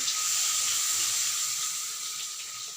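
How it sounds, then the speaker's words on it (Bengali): Water poured into a hot pan of spiced pointed gourd, bursting into a loud, steady steaming hiss that holds throughout and fades only slightly toward the end. "এবার দিয়ে দেবো সামান্য পরিমাণে জল পটলটা সিদ্ধ হওয়ার জন্য"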